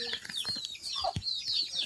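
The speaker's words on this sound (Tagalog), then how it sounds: "Ayan, mga manok." Several chickens cluck and chirp close by in short, irregular bursts of high calls.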